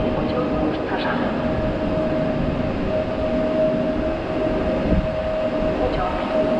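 A train rolls through Warszawa Zachodnia station in Warsaw with a continuous loud rumble and a steady high whine of wheels on rail. A faint station announcement voice sits under it.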